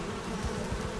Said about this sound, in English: out here, this is all my bees